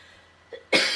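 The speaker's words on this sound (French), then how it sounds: "donc ça me fait tousser" Someone coughs from the irritation of perfume in a quiet room: a faint throat sound, then one sharp, close cough at the end.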